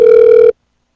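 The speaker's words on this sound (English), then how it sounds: "It's ringing. It's ringing." A single steady electronic ringback tone from a telephone call sounds loud and close for about half a second, then cuts off abruptly into silence.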